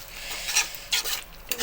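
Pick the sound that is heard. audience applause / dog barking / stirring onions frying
stirring onions frying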